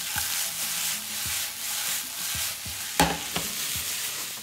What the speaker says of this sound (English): Now that the onions are in the pan, they're gonna stay there. I'm gonna stir often,